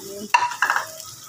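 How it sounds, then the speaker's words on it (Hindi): Oil set aside earlier is poured back into a pan of pota karahi, setting off a sudden loud sizzle and stirring that fades to a lower crackle, close by, with no talking. "आयल जो था इसमें से निकाला था वो मैं डाल दूँ"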